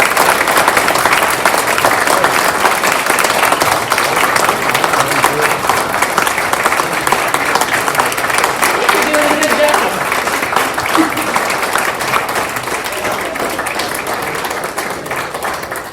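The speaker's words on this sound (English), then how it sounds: "I'd like a round of applause." Sustained, dense applause from a town hall audience in Leavenworth County fills the room for the full stretch, loud and steady before easing slightly near the end, with a voice speaking briefly over it.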